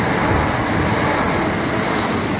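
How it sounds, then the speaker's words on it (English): Southeastern Class 375 electric multiple unit, a Ramsgate to London Victoria passenger service, passing close by at a level crossing, giving a loud, steady broadband rush of rail and wheel noise with no talk. "our first train of the day is the 1453 Southeastern service to London Victoria, form the 375-709"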